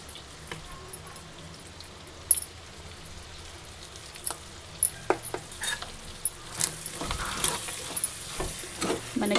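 Boti (goat tripe) frying in a pan while being stirred, with a faint steady sizzle and scattered metallic clinks and scrapes from the spoon, growing busier toward the end.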